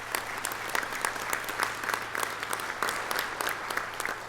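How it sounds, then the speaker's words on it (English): Audience applause at a commercial real estate economic forum, a steady wash of many hands clapping from a seated crowd, fairly distant and even throughout with no talk over it. "and that's Heather Miller and Barb Arthur, so I want to give them a big round of applause."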